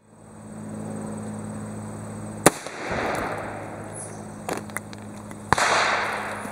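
Ruger SP101 .357 Magnum revolver firing Remington Golden Saber rounds into a clear ballistics gel block: two sharp loud shots about three seconds apart over a steady hum, with faint extra pops between.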